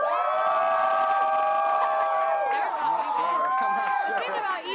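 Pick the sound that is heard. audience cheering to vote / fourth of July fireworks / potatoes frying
audience cheering to vote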